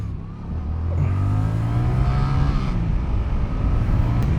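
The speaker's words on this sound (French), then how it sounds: "le moteur, franchement, il prend ses watts, mais avec une vivacité" A Yamaha Tracer 700 (2020) motorcycle engine accelerating under load, its tone rising steadily through the revs, loud and close with a continuous roar and no speech over it.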